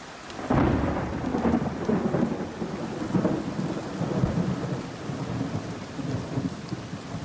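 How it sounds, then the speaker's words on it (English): A heavy thunderstorm at a home: a loud thunderclap breaks in early and rumbles on while dense, heavy rain pours steadily around it, close and continuous with no voices. "it started to storm really bad."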